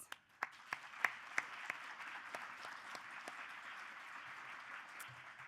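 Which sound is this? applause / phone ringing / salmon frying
applause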